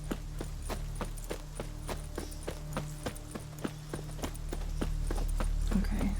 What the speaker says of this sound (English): I'll get my horse